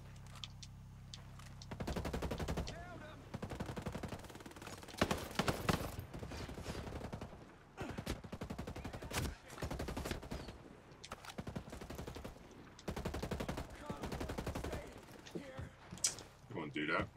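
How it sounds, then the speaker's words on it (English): Repeated bursts of gunfire from Tom Clancy's Ghost Recon Breakpoint, loud clustered volleys separated by short pauses, with someone talking over the shooting throughout. "Man was shooting at me."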